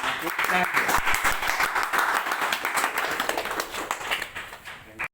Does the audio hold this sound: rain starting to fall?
no